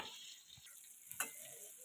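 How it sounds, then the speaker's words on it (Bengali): Small eggplants frying in a pan, a quiet, steady hiss with a faint tick and one brief crackle near the middle. "ছোট ছোট বেগুন দিয়ে বেগুন ভাজা হচ্ছে আজকে"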